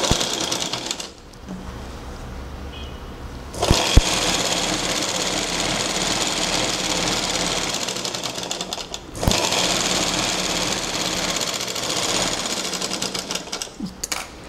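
A sewing machine runs steadily while stitching two fabric pieces together for a French seam, with a loud, close, continuous whirring and rapid needle chatter in two long bursts separated by a brief pause.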